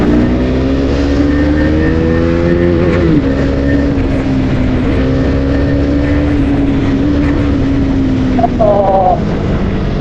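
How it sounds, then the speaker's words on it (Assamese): A fully modified Husqvarna Svartpilen 250 motorcycle with an under-belly exhaust accelerates and holds a loud, droning engine note that rises and falls through the gears, heard close up from the riding bike. "কি ধুনীয়া পিক আপ লৈছে বাইকখনে"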